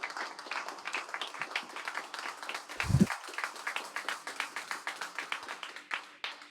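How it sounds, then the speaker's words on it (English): An audience claps for guest Najat Aoun Saliba at a live knowledge-exchange event. The applause is moderate and steady, with individual hand claps audible throughout, and a brief low thump occurs midway. "a round of applause to Najat Aoun Saliba"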